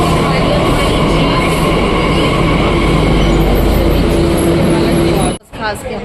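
Metro train at a Delhi metro station, a loud steady rumble with hum running continuously for about five seconds, then cutting off abruptly into near quiet with faint voices.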